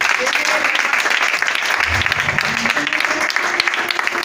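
A church congregation claps together during a French-language sermon, a dense, loud, continuous wash of applause that carries on steadily with a voice cutting through it briefly.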